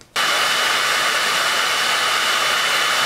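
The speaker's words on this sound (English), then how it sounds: "we're just going to heat him up with the blow dryer" A blow dryer runs on high heating an action figure, a loud steady rushing whoosh that switches on abruptly and holds constant, close up with no talk.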